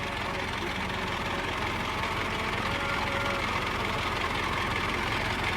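A Massey Ferguson MF 375 tractor engine idles with a steady, even diesel chug and rattle, continuous and moderately loud throughout, heard outdoors near a rotavator.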